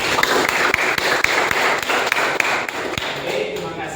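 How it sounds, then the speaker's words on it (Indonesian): A lecture class applauds at the end of a session, steady sharp claps repeating close by in a brisk, even rhythm for several seconds before thinning out. "Ya, aplaus untuk kawan-kawan semua."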